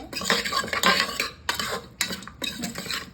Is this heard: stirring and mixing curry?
yes